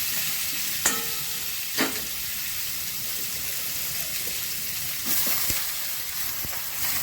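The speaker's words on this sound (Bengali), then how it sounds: "অল্প সবজি দিয়ে আমি মশলাটা একটু ভেজে দিচ্ছি। এবার আমি সবজিগুলো সব দিয়ে দেবো।" Cumin and spices fry in a pan as pumpkin, sweet potato, white potato and eggplant go in, giving a steady close sizzle broken by a few sharp spoon clinks and stirring scrapes.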